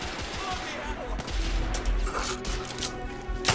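Revolver gunfire in the video game The Order: 1886, a dense run of loud, booming shots and impacts over a rumbling combat background, with a few faint voices.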